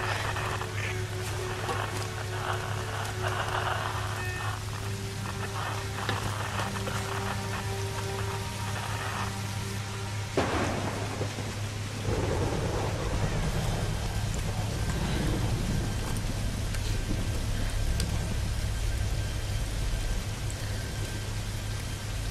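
Rain pouring in the 2013 Tomb Raider video game, a constant wash of falling water with low rumbling thunder rolling in partway through, joined by a deeper storm roar toward the end.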